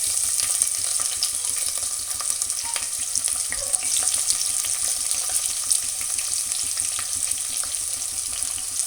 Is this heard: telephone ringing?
no